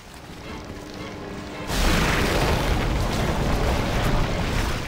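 A fire attack explodes against the Leechmonger boss in Demon's Souls, a sudden loud broadband boom that swells into a sustained roaring blast after a quieter rumbling stretch.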